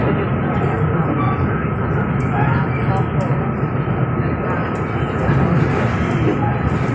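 Steady low rumble and rattle of a moving train heard from inside a carriage between Shulin and Taichung, Taiwan, a constant drone with a faint tonal hum.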